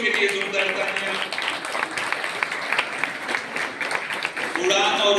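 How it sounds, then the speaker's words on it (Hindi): An audience applauding the daughters at an annual programme for a report presentation: steady hall-wide clapping lasting several seconds, with voices talking over it and a swell near the end. "सारी बेटियों के लिए जोरदार तालियां"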